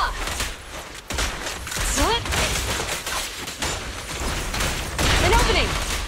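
Gunfire in the video game Nikke: rapid bursts of shots and booms run continuously under battle effects and character voices, loud and close throughout.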